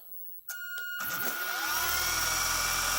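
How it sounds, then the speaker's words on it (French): The motors of an Eachine E130S RC toy helicopter start after a couple of clicks and spin up into a steady, close, high-pitched whine that keeps rising and holds loud to the end. "on va pouvoir démarrer les moteurs"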